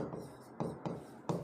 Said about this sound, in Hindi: मैं आपके लिए फॉर्मूला लिखता हूँ